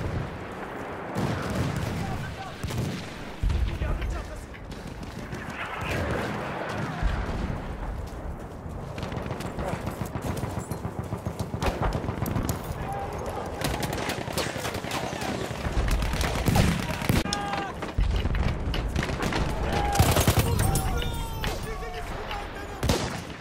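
Continuous battle din from the video game Battlefield 1, with dense rattling bursts of machine gun fire and heavy booms layered throughout, loud and sustained, with voices calling out over the combat.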